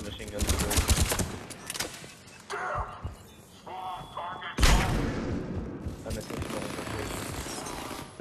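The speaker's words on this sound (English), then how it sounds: "I used the machine gun." Machine gun fire in Mass Effect 3 multiplayer combat, rapid rattling bursts up close, then a loud blast midway followed by more continuous firing amid dense game noise.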